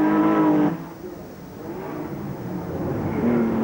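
A Porsche Carrera racing at the 1992 Australian Grand Prix Porsche Challenge, engine note rising and falling as cars pass, loud at first then easing before building again.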